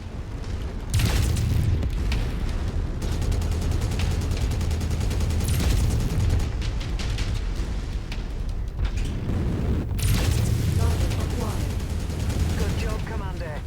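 A comm station is destroyed in MechWarrior 5, amid a continuous din of heavy gunfire and booming blasts. Louder explosive bursts stand out near the start and again toward the end.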